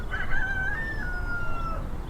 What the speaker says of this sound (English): There's 12, 11 chickens and a rooster.